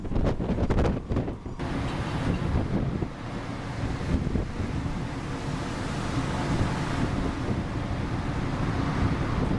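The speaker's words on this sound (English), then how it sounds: "Heavy rain, strong winds, towering waves crashing relentlessly against the ship's hull." Strong wind and waves crashing against a ship's hull at sea, a loud, continuous roar of wind noise and surging water with heavier bursts in the first seconds.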